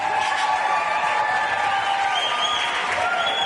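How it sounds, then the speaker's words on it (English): A large crowd at a Trump Pride event cheering and applauding, a sustained wash of clapping and shouting with a few whistles rising through it, distant and continuous. "They're literally cheering at nothing."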